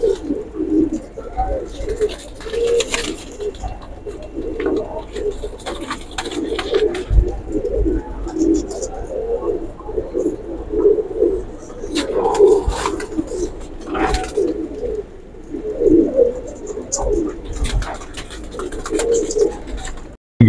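Royal Teddy pigeons coo in soft rhythmic repeated bursts close by, with a voice talking intermittently over them.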